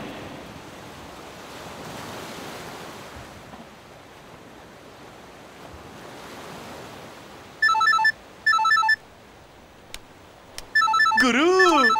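A telephone goes unanswered: its electronic ringtone sounds in two short bursts, then a longer warbling ring. Soft surf-like wind and wave noise fills the background, with no speech.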